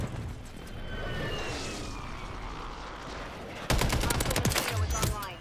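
Battle rifle fire in Call of Duty: Modern Warfare, a sharp cluster of quick loud shots cutting in after a stretch of rumbling ambient battle noise, with faint chatter underneath.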